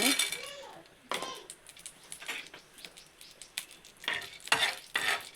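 Black peppercorns frying in ghee in a pan make a soft, crackling sizzle, with irregular clinks and scrapes of a spoon stirring them.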